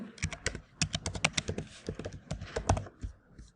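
An email address is typed on a computer keyboard, a close, rapid clatter of uneven keystrokes that slows and thins toward the end.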